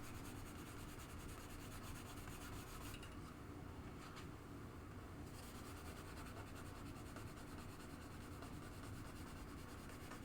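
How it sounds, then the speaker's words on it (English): A drill buffs Novus 2 polish into a 1972 Williams Superstar pinball playfield, giving a steady, close, rough rubbing hiss that runs without pause, with no voices. "But I'll just go back over with the Novus 2 on the drill."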